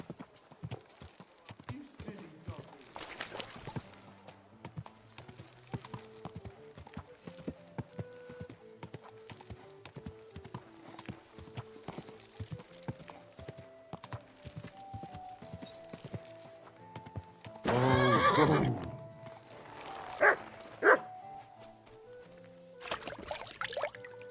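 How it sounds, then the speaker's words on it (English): Steady clip-clop of horse hooves in Kingdom Come: Deliverance 2 trots along for a long stretch, with a couple of loud neighs and snorts breaking through near the end. "Easy, good horse."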